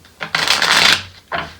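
Tarot cards are shuffled by hand in two close, crisp bursts of riffling, a longer rustle followed after a short pause by a brief second one, with no voices.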